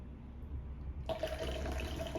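Cold water pouring into a glass of espresso shots for iced coffee, a faint quiet start then a sudden steady close splashing pour.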